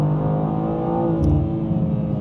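A BMW G87 M2 rear-wheel-drive coupe cruises on a country road, a steady close engine drone with a slight swell in revs, heard from inside the cabin with no talk.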